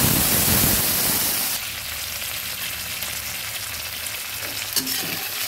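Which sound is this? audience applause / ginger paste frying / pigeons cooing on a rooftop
ginger paste frying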